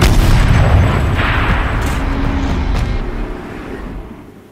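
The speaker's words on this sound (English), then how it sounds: "Rotate turret! And fire!" A tank turret fires in Horizon Zero Dawn, a deep booming blast that rolls out into a long rumbling decay over several seconds, loud and alone with no voices.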